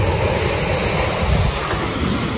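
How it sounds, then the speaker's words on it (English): Ocean waves wash onto a beach in a steady, loud roar, with wind buffeting the microphone throughout and no voices. "Baby loves the waves."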